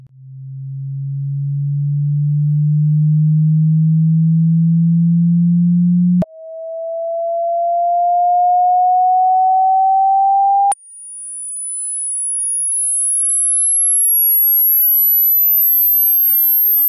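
A pure sine test tone for checking the human hearing range sweeps upward in three steady stretches, from a low hum to a mid whistle to a very high, thin whine. Each stretch is sustained and loud, with no talking.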